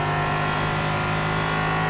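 Sports car engine at full throttle on the Daytona track in a sim racing game, a steady loud droning whine held at high revs without a break.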